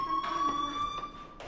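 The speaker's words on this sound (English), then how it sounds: "do you hear that fire alarm? That means you should be outside." A fire alarm rings in the game Life is Strange, a steady high electronic tone sounding continuously at moderate volume with faint background noise.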